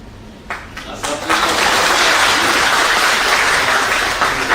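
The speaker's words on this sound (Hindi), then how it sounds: "नीतीश कुमार ने उनसे ऐसा कुछ कहा कि सबकी हंसी छूट गई, तालियां बजने लगी" A crowd breaks into loud, sustained applause that swells after a second and holds steady, dense and close, with cheering mixed in.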